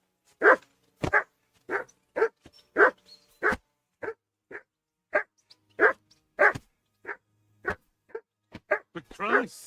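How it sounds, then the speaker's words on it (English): A dog barks repeatedly in the medieval video game Kingdom Come: Deliverance 2, sharp single woofs in a steady rhythm, loud and close, with a short yelp near the end. "For Christ's sake, Henry, call off that damn dog before he wolfs down the last of our meat."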